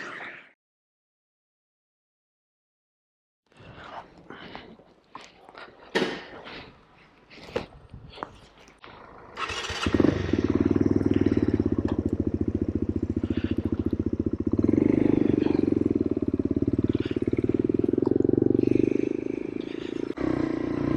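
A Suzuki VanVan RV125 motorcycle starts after some clattering and handling noises, then settles into a loud, steady single-cylinder engine drone close by, heard alone for about ten seconds.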